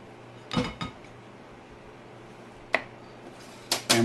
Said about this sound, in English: let's go ahead and spoon some of this up and we'll give it a try here